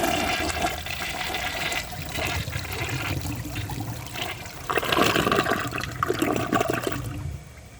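A Mansfield Alto comfort-height toilet flushes with a loud, steady rush of water that swells near the end before easing into trickling refill, close and alone.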